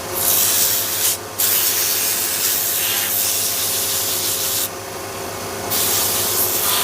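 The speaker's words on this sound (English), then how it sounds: "I normally sand at this stage." Sandpaper rubbing on a wooden candle ornament turned on a lathe, a steady, loud, continuous rasping drone with short breaks where the paper lifts off and changes pressure.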